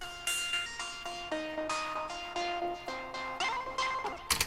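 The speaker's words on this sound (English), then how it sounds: "take that blip part I played you earlier and sort of re-pitch it" A re-pitched, transposed blip synth part from an electronic remix plays a run of short, bright plucked notes at shifting pitches in a quick, steady rhythm, alone and moderately quiet.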